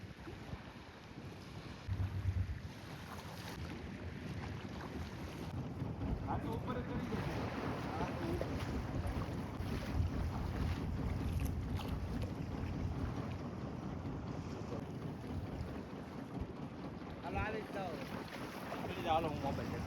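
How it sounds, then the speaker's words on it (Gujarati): A boat approaches an island shore across open sea, its motor a steady rumble blended with strong wind buffeting and surf, continuous for the whole stretch with faint voices now and then. "દસ વાગી ગયા છે ને આપણને લેવા બોટ આવે છે."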